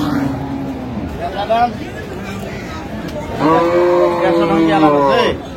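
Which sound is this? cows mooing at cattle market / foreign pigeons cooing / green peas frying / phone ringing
cows mooing at cattle market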